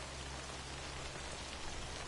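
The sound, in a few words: timefall rain in Death Stranding video game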